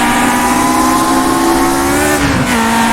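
A 1966 Grand Prix car with a 3-liter engine racing in rFactor 2, a loud, steady, high-pitched engine howl held near full throttle, dipping briefly as it lifts and then recovers.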